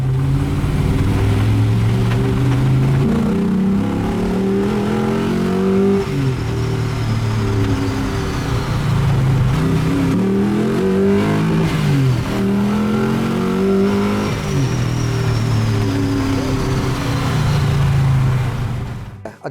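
An Ultima GTR engine and exhaust drone loudly from inside the car while driving, rising and falling in pitch through repeated accelerations and gear changes, with booming resonance and no talk.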